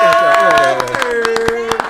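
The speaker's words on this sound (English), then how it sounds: "Let's clap real quick." Quick rhythmic hand clapping from a trap choir group during a break, sharp claps in steady succession mixed with sung and spoken voices.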